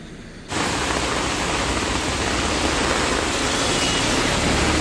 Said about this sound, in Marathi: पाऊस काय होतो बघा कसा